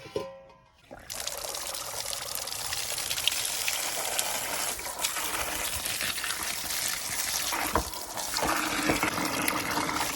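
Running water splashes and trickles steadily after a brief quiet start, with occasional clunks as raw mangoes are rinsed under the flow.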